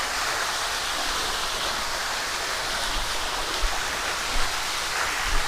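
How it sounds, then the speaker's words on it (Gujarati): Water flowing steadily through a stream in the Kadiya Dhro river canyon in Kutch, a continuous loud broadband rush with a few soft splashes and no voices. "સરસ મજાના ઝરણાના દ્રશ્યો"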